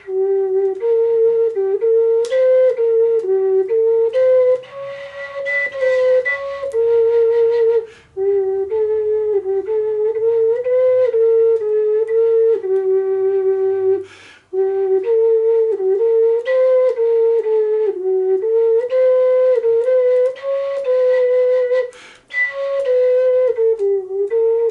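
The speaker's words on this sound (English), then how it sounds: "Now the ocarina, traditionally a South American instrument made out of ceramic, sounds a bit like this." A breathy, pure-toned ocarina plays a lilting melody with short pauses between phrases, clear and close, no voices.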